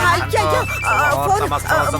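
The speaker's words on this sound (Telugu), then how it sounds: "ఫోన్ ఎత్తవే" A telephone rings during a wedding ceremony under loud, overlapping talking, the ringtone partly buried beneath the voices.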